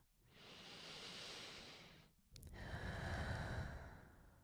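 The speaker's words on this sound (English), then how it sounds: "Take a deep breath with me." A slow, deep breath is heard up close and quiet: a long, soft inhale through the body, a brief pause, then a longer, fuller exhale, alone in a hushed room.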